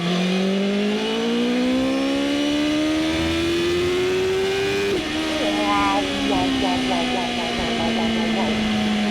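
A high-revving BMW M 1000 RR superbike engine climbs steadily in pitch, briefly dips, then rises and settles into a loud, sustained whine; faint voices may sit underneath.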